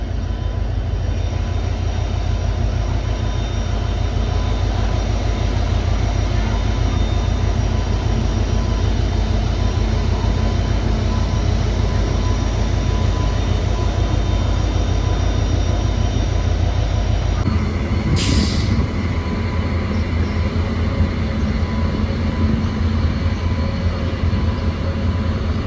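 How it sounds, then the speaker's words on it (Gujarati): A passing train heard from beside the track: a loud, continuous low rumble and rolling drone that lasts throughout and drops in level near the end, with no talk. "તમે જો ટ્રેન જાય છે"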